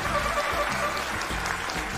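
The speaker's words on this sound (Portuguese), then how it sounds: "uma salva de palmas, por favor." A crowd claps in a sustained round of applause, moderately loud and steady for a couple of seconds.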